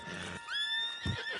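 A horse neighs in the video game Red Dead Redemption 2, a rising, shrill whinny that wavers and trails off, heard alone and fairly close.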